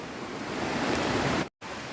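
Water rushes loudly and steadily from a mountain waterfall and stream in the Kolli Hills, a close, broad roar that drops out for a moment before resuming.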